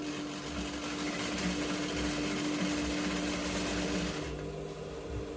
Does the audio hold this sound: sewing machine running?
yes